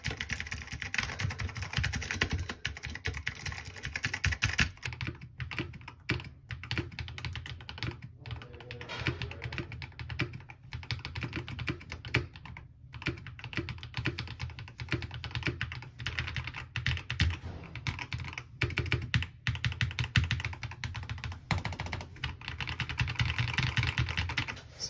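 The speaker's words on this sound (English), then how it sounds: "here is a comparison of before and after of the keyboard, before and after we modded it to make it better." Continuous rapid typing on a cheap $10 computer keyboard, heard before and after modding, with dense, close clicking keystrokes and short pauses, no voices.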